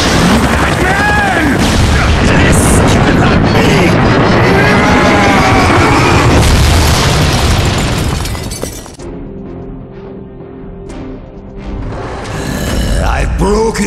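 Missile fire and explosions in a Batman arcade video game, loud continuous booming and shattering blasts that fade into quieter electronic game tones, with a voice speaking over part of it.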